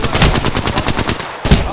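Rapid automatic gunfire in a video game firefight played on PS4: a loud, rhythmic burst of closely spaced shots, a brief pause, then another shot.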